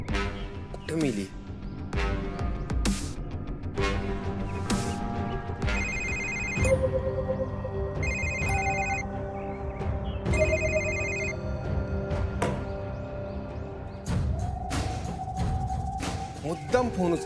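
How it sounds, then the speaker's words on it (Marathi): A telephone rings unanswered in a Marathi TV drama scene, heard as repeated electronic ringtone bursts at an even rhythm among background music and dramatic hits, with people talking over it. "फोन का उचलना झाली?"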